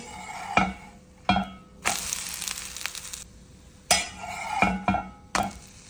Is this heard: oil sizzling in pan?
yes